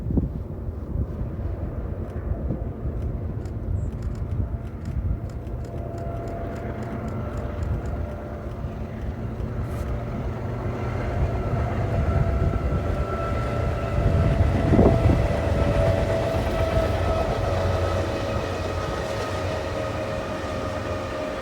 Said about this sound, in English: BNSF 7423 leads more priority stacks eastbound for the Chicago markets